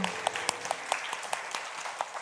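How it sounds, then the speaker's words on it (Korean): A church congregation at a Yeongnam Church birthday service gives a short round of applause, scattered distinct claps spaced unevenly over a quiet room, fairly faint. "감사와 영광의 박수를 하나님께 올려드립시다."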